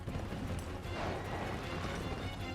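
Horse galloping in the video game Wo Long: Fallen Dynasty, a dense, steady stream of hoofbeats with no distinct separate strikes, fairly close and continuous for a couple of seconds.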